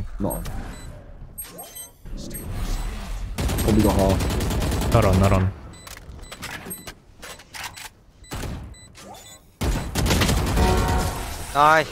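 Rapid gunfire sprays in Valorant, video game, loud clustered bursts broken by short gaps, with players talking over the shooting.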